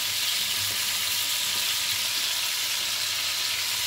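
Pieces of monkfish sear in a hot pan, making a continuous, moderately loud sizzle with no one speaking.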